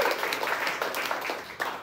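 An audience at a live comedy game show in a New York venue claps steadily for a contestant, a brief burst of dense, fairly close applause with no talk over it.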